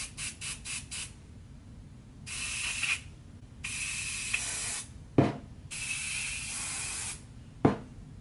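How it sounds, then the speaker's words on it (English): Hairspray is sprayed onto curled hair in several short hissing bursts, close and fairly loud, with a few brief pauses and sharp clicks between sprays. "But this time, I'm just gonna put hairspray."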